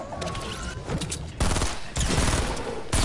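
Gunfire in Fortnite, rapid bursts of close shots that come in clusters with short pauses between them, loud and sharp throughout with no talking.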